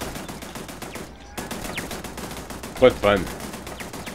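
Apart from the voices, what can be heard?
gun turrets firing in the video game Starfield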